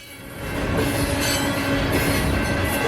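A CSX train on the Chattanooga Subdivision rolls past nearby at night with a steady, loud rumble and rattling wheels, swelling in the first half second and then holding constant.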